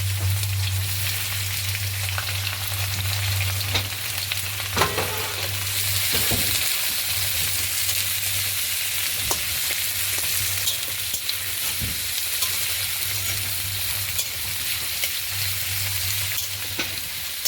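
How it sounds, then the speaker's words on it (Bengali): Onions sizzle steadily in a hot pan for a fish curry, a continuous dense frying hiss with occasional stirring scrapes and no talk. "পেঁয়াজটা ভাজা হয়ে গেলে"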